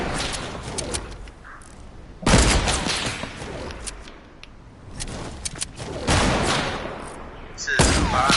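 Hunting rifle shots ring out during a Fortnite duo match: several sharp, loud cracks spaced a few seconds apart, each trailing off into a softer echoing tail, with quieter game ambience between them.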